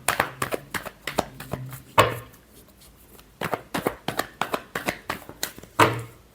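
Tarot cards are shuffled by hand in two runs of rapid, close riffles and slaps. Sharp bursts and taps come in quick succession, with a brief quiet stretch between the runs.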